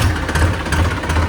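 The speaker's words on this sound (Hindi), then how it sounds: "ट्रैक्टर करते हैं स्टार्ट" A tractor engine, a Massey 7250 or Swaraj 744 XT, runs at a steady idle, a loud, close, low chugging rumble with a continuous mechanical throb and no talk over it.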